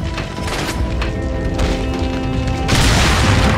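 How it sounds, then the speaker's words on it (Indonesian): An explosion in the video game Resident Evil 4 Separate Ways booms loudly, with dense crashing noise that swells near the end. "meledak nih, meledak nih"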